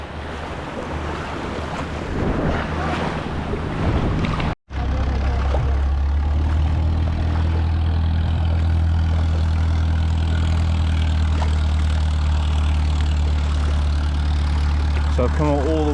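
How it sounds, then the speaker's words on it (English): Big-engined longtail boats drone steadily offshore near Railay Beach, a low continuous hum over lapping surf and wind; a brief dropout early on, then the engine rumble holds evenly throughout. "All you can hear is these longtail boats with their big engines."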